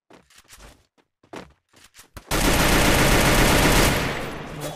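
Loud, sustained burst of automatic gunfire in the Free Fire video game, erupting suddenly after a few scattered soft thumps and footsteps and continuing close and dense for a couple of seconds.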